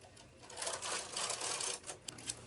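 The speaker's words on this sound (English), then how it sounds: "Now push the knitting back against the needle bed, remove the needle stopper, and carefully knit 1 row." Carriage of a knitting machine pushed across the needle bed to knit a single tight row over a hung crochet edge, giving a continuous mechanical clatter and whirr for a couple of seconds, fairly close and alone.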